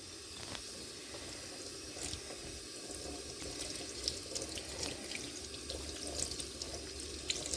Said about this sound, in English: Okay, we're going to be rinsing the second hank of yarn.